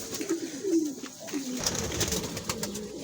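Pigeons cooing near a nest with young, soft low repeated coos close by in the first half, then a steady hum of background noise without voices.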